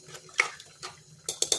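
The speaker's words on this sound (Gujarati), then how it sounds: "આપણે બધું મિક્સ કરી લઈશું" A spoon mixes rice into warm water in a pressure cooker for khichdi, making a few sharp metallic clinks and knocks against the pot in quick bursts.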